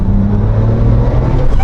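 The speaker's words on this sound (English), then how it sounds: "Once you get the rush of the turbos," A 2007 Porsche 911 Turbo with all-wheel drive and a manual gearbox accelerates, its engine a loud, steady low roar heard close from inside the car, rising toward the end.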